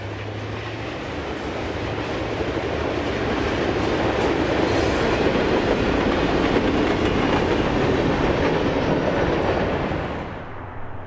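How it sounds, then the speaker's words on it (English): A long, heavy Norfolk Southern westbound freight, train NS 179, rounds a curve at milepost 200 on the Dayton District main line, a loud continuous rumble of rolling cars and wheel noise that swells, holds, then fades near the end. "Westbound NS 179 coaxes a long, heavy train around the curve at milepost 200."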